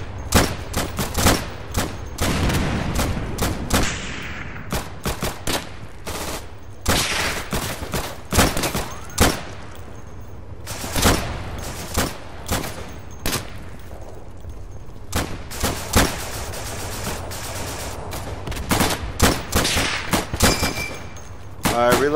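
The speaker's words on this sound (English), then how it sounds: "I'm firing at long range" Long-range gunfire in the World War II shooter Day of Infamy during a Battle of the Bulge fight: repeated loud rifle and machine-gun shots crack in irregular bursts, with distant battle noise between them and no talk.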